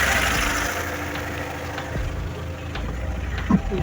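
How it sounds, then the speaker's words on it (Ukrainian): A warmed-up motor idles steadily and loudly at close range, a constant low rumble with faint mechanical ticks and clicks throughout. "Зараз ми мотор вже трохи зігрівся"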